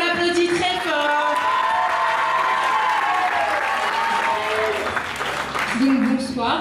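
A crowd applauds and cheers loudly for a contestant at a regional beauty pageant, the clapping sustained throughout alongside a voice and tonal sound.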